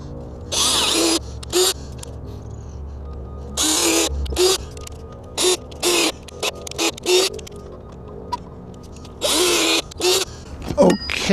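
A power drill bores holes into a wall for a robotic mower's RTK antenna wall mount, running in several loud whirring bursts of a second or so with brief pauses and small handling clicks between them.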